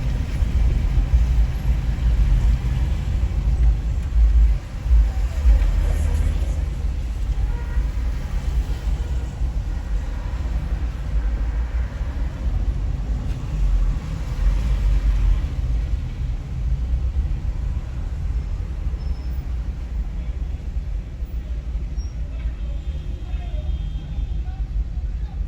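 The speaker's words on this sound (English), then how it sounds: "Encountering a little traffic." Busy city street traffic in Half Way Tree, Jamaica, a steady low rumble of engines and passing cars throughout, with people talking over it.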